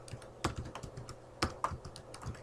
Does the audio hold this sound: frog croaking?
no